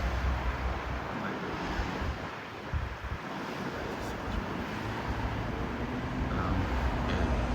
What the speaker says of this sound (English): We've got the ocean next door.